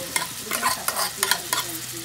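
Mustard seeds, cumin, turmeric and garlic hit hot oil as tempering for dal, popping and crackling in a run of sharp bursts over a steady sizzle, close and fairly loud.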